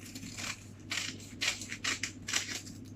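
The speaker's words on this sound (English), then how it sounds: "if you take your scissors and just cut around" Scissors cutting a circle of paper along the edge of a tin, a series of soft crisp snips and rustles close by, quiet and without talk.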